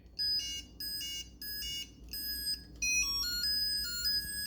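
A Mattel Football 2 handheld electronic game plays a sequence of sharp, close electronic beeps, first several separate bursts, then a longer stepped run of tones near the end, with nothing else heard.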